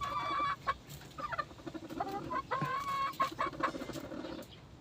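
Chickens cluck and chirp around a brooding hen and her newly hatched chicks, with repeated short calls and peeps overlapping through a steady farmyard background.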